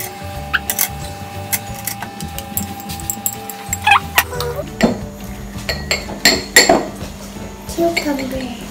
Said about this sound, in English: So now we're going to mix it up.